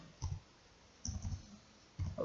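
Three short bursts of clicking keystrokes are heard as a PIN code is typed on a computer keyboard, quiet and close, separated by brief pauses.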